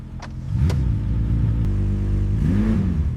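The rebuilt engine of a McLaren supercar runs up close, a loud, steady idle rumble with a short rise in revs and a second swell near the end, with no voices over it.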